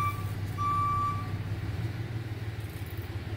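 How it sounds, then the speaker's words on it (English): A couple of high electronic reversing beeps from a tow truck ring out over a low, steady idling engine rumble nearby. "Pardon the noise. I guess there's a car being towed."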